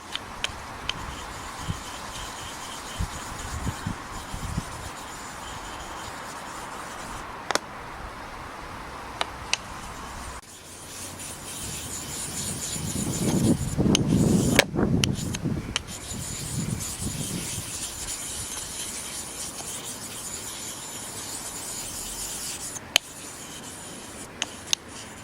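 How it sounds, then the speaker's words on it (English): A Nagura stone is rubbed across a 6000 grit whetstone to raise a fine polishing paste, a soft, steady scraping rasp that goes on throughout, with a louder stretch of rubbing in the middle. "from 4000 up, you need to use a Nagura stone to polish your stone to give you a nice fine"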